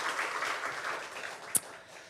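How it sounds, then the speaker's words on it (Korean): A church congregation applauds after a Sunday worship service, a soft, steady wash of many hands clapping at a distance, with one sharp nearer clap standing out near the end. "우리 하나님께 영광의 박수 올려드리겠습니다."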